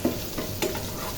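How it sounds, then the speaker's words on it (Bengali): Pointed gourd (potol) pieces fry in a little hot oil as they are turned, giving a steady close sizzle with a few soft stirring scrapes and bumps. "তেল গরম হলো, পটল সবগুলো দিয়ে আমি এগুলোকে সুন্দর করে এপিট ওপিট করে ভালো করে"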